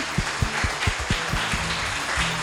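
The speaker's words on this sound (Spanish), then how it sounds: "vamos a darle un gran y fuerte aplauso a Franco para invitarlo" At a technical school, an audience applauds to welcome a writer of youth novels, a close, fairly loud round of clapping with distinct individual claps over a rhythmic low thumping.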